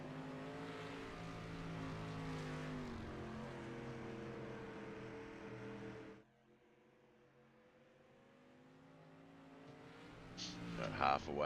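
Dirt street stock race car in the iRacing sim lapping a dirt oval, its engine droning with shifting tones, cutting out abruptly midway, then rising again toward a louder revving finish, with an announcer talking over it.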